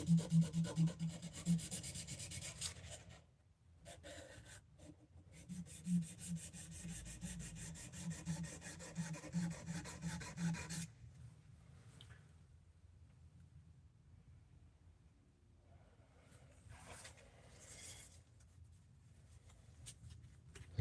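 Hand sanding with 600 grit sandpaper, a steady close rubbing and scraping in bursts for about ten seconds, then a gap and quieter, lighter strokes near the end.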